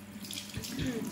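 A bathroom tap runs warm water into a sink, a close, steady splashing stream, brief and without speech.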